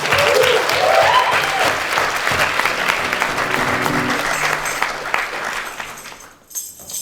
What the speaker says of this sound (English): Let's have a big round of applause and a thank you for our wonderful hosts